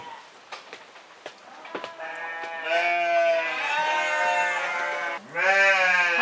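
Sheep bleat repeatedly inside a pen, long wavering cries overlapping close by after some soft knocks and rustling, with no talk.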